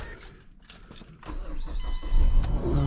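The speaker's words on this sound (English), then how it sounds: "Okay, let's start the car." A 2008 Mazda CX-7 engine cranks and catches, rising into a steady idle with some mechanical clatter; close by, no talking.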